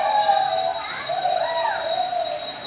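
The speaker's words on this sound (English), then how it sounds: "Some of it's birds, obviously." Birds call at Bang Pae Waterfall in Phuket, a few clear, gliding whistled notes over a soft, steady hiss of background noise, with no talk.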